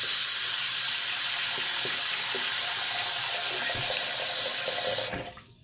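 Water runs from a tap to warm a razor blade for wet shaving. It makes a loud, steady, close hiss that stops abruptly near the end.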